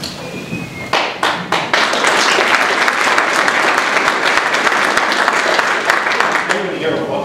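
At a police promotional ceremony, a few scattered claps quickly swell into full, loud audience applause that holds steady, with some voices faintly underneath.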